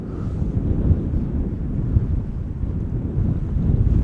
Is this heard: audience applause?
no